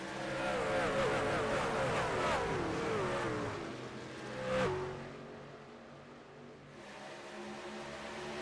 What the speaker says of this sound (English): On the stripe as we go back to green flag racing here at Talladega.